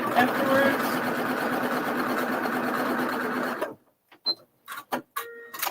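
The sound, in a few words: sewing machine stitching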